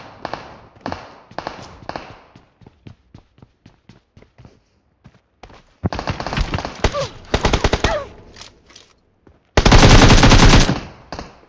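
Bursts of automatic gunfire in the BGMI mobile battle royale game, rapid fire at the start, then scattered single shots, then loud sustained volleys near the end, with no talk over it.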